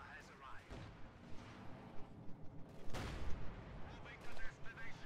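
Gunfire and explosions from a German tank engaging an IS-2 heavy tank in the Company of Heroes 2 strategy game, with sharp blasts and rumbling battle noise throughout, one loud report near the middle.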